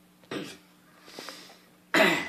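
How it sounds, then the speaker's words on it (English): A couple of sharp, harsh coughs close up, separated by a quieter throaty sound, with a pause in between. "This coughing?"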